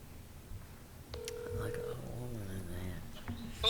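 Telephone keypad tones sound one after another as a call is dialed in a committee hearing room, then a ring tone follows. Each beep is short and clear, and quiet voices murmur in the background.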